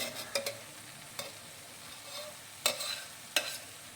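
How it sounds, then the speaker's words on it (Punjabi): Desi ghee sizzling in a pan with frying okra: a faint, steady sizzle broken by several sharp clinks and scrapes of a spoon stirring, with no one talking. "ਹੁਣ ਅਸੀਂ ਪਾਵਾਂਗੇ ਇੱਕ ਚਮਚ ਦੇਸੀ ਘਿਓ"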